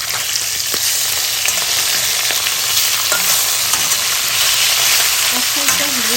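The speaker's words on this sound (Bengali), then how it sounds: "এখন তেল গরম তেল গরম হচ্ছে ওর ভিতর দিয়ে দিচ্ছি একটু উল্টাই দেবো" Marinated fish heads fry in hot oil, giving a loud, continuous close-up sizzle and crackle that stays dense and even throughout with no break.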